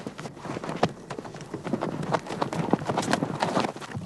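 Several horses walk along a rough mountain trail on an Idaho elk hunt, their hooves clip-clopping in a steady, irregular rhythm close by with scuffing underfoot.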